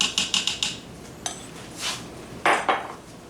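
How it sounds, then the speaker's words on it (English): Metal utensils clink and scrape against a pot while cheese is stirred into sausage and potatoes in an Instant Pot, a quick burst of taps followed by a few more knocks, close and clear with no talking. "Give this a good stir."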